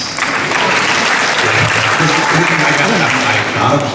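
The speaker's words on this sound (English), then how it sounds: "I got applause for being able to think." A crowd at a San Diego Comic Con panel applauds, with loud dense clapping throughout and voices mixed in beneath it.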